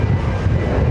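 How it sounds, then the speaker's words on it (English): A JetBlue Airbus A220-300 airliner pushes back at JFK. Its engines give a loud, steady broadband roar with a low rumble, heard up close throughout, with no talking. "Airbus A220-300 pushing back in front of us here"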